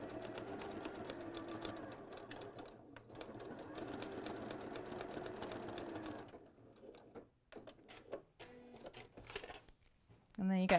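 A sewing machine zigzag stitching fabric for a skirt, running steadily for about six seconds and then in short bursts and stops, with people talking quietly over it.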